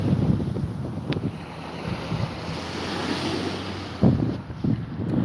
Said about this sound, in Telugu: అలలు వస్తున్నాయి